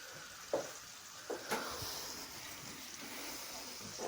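Masala spices frying in a pan for chana daal, a faint steady sizzle with a few soft clinks and scrapes of stirring, close and quiet.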